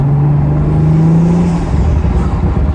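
Audi RS5 fitted with a carbon fiber intake, a loud close rising turbo whine under engine roar that cuts off into a rough, fluttering release as the throttle lifts.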